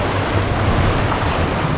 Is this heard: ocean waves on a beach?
yes